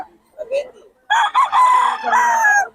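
A young rooster (stag) on a farm in Bulacan crows loudly and close by: one long harmonic call that holds steady for well over a second, after a few soft clucks. A voice may be faintly present.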